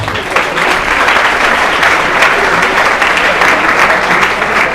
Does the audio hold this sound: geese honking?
no